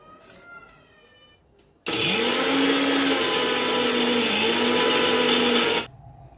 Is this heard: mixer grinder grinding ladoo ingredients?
yes